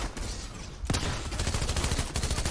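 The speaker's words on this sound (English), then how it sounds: "I'm just shooting everywhere." Rapid, continuous gunfire in the Fortnite video game, bursts of shots running steadily across the clip with a sharp loud onset near the start and no talking.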